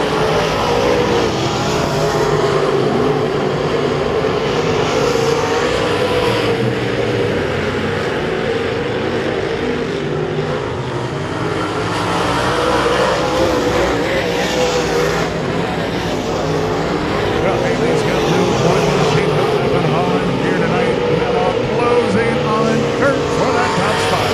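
Race cars roaring around a dirt track speedway at Lake of the Ozarks, a loud, sustained engine drone that swells and ebbs steadily throughout with no break.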